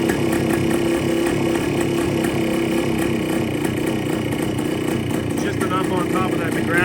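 A 1973 Kawasaki 175 motorcycle engine idles steadily and close by, a continuous mid-pitched mechanical drone with no notable revving or pauses.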